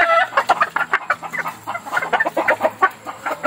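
A Kelso-Roundhead cross gamefowl rooster clucks and calls repeatedly at close range in a backyard, with a steady run of short throaty notes and no one speaking.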